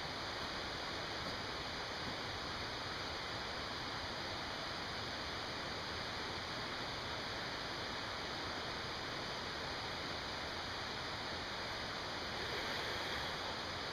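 The Zig Zag River flowing outdoors, a steady broad rushing wash of water that stays even and unbroken throughout, with no voices.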